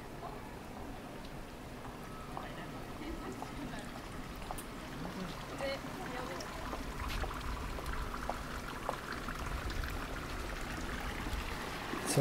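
Water trickling and splashing steadily in a small money-washing pond at Enoshima, faint and continuous in the background with a few light drips on top.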